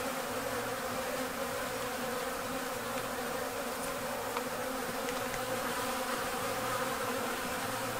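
Some 40 to 50 bees drone in a constant, thick buzz nearby at a campsite in Baja California, holding an even level throughout without pause.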